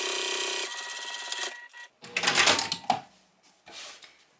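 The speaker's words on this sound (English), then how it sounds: "When I top stitch on my slip pocket, I'm just going to top stitch 1/8 of an inch away." A sewing machine top stitching a bag lining runs in a steady mechanical whir, then stops, followed by cloth shuffling and handling noises.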